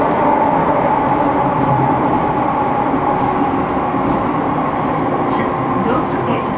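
A train bound for Glasgow Queen Street High Level rolls steadily along the rails with a continuous rumbling drone heard from inside, while a voice talks faintly over it.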